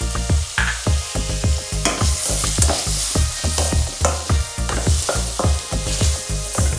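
Chopped tomatoes and onions sauté in a pan while a spatula stirs them in steady, rhythmic strokes. Close, loud scraping comes over a continuous sizzle.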